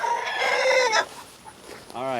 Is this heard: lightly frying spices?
no